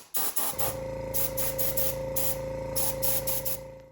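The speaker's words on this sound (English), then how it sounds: "that foundation color, I just kind of got it sprayed all over, up and around and through and on and in and into all those deep spots" An aerosol can sprays a foundation color coat onto a whitetail deer skull in a series of close, loud hissing bursts separated by brief pauses.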